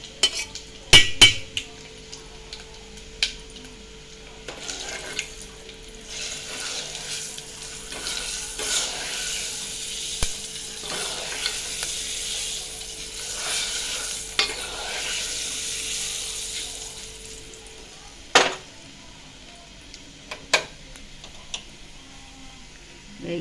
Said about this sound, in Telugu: కాస్త మంచిగా చిట్టుపట్లు ఆడుతుంటాయి కదా